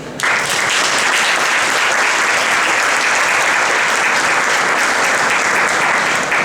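A large audience at a Mexican academic event applauds to welcome a speaker, loud, sustained, dense clapping that starts abruptly and holds steady to the end.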